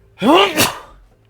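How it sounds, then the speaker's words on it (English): A single close, loud sneeze, a sharp voiced intake followed by an abrupt burst, then quiet. "I got the sneezies."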